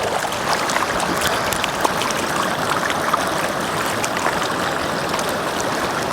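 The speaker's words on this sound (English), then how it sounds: "Make sure you wash those roots off real well." Stream water rushing and splashing steadily as a gold pan and plant roots are washed out while crevicing for gold, a loud, close, continuous watery wash with no talking.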